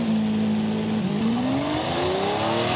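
A Lamborghini Aventador launches from standstill in Forza Horizon 5, its engine holding a steady loud drone before the pitch dips briefly at the shift and then climbs smoothly and continuously.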